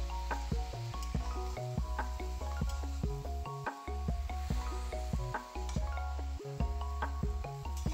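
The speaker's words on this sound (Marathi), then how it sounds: "मसाला आणि भाजी एकजीव परतून घ्यायची।" Red amaranth greens stir-fried with spice mix in a pan, giving a soft steady sizzle broken by repeated rhythmic scraping and tossing clatters from stirring, fairly faint and continuous, with no voices.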